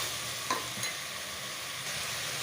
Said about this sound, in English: we'll fry it really well till it gets a nice roasted film on them